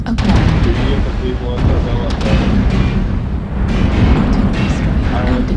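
Artillery strike in a war video game, a dense roar of booming explosions and rumbling gunfire that is loud and continuous, with faint game voices mixed in.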